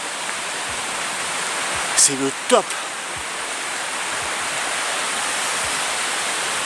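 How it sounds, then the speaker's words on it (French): Waterfalls along a hiking trail at L'Aigue Brun, a steady broadband rush of falling water filling the scene, with a brief spoken remark and a few small clicks over it. "Avec toutes ces cascades qui montent jusqu'à Roque-Salière,"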